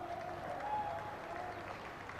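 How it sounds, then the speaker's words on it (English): Cricket crowd and teammates applauding a batsman's first Test hundred at a Sri Lanka versus New Zealand Test in 2006, a steady wash of distant clapping with a faint whistle rising above it. "There's a multitude of Test hundreds there applauding this bloke's first one."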